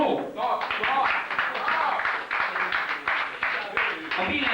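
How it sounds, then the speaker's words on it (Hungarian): Audience applause at a concert event, a crowd clapping in a dense irregular patter of sharp hand claps, loud and close, with some voices mixed in. "Taps, taps!"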